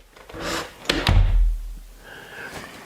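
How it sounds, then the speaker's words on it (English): Thick hand-built double doors in a very thick wall swing shut with a deep, heavy thud, preceded by a soft creak and latch click, followed by faint room tone. "So you've got a wall that's extremely thick, double doors, and I want you to listen to it shut."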